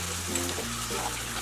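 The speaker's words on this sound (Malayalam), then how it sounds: "ഇതിലേക്ക് ഇനി 1 ടീസ്പൂൺ ജിഞ്ചർ ഗാർലിക് പേസ്റ്റും കൂടി ഇട്ട് വഴറ്റി കൊടുക്കണം." Onion and ginger garlic paste sautéing in hot oil for a Malabar Irani pola snack, a steady close sizzle throughout with a low background hum.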